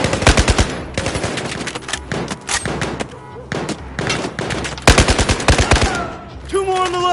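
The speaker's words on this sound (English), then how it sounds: "I'm firing!" Rapid bursts of automatic gunfire from the video game Battlefield 4, loud and close, come in repeated volleys with short pauses between them.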